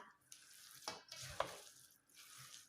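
Sticky rice is stirred back and forth in coconut milk, giving soft, wet scraping and squelching strokes in an irregular rhythm. Quiet and close, with no talking.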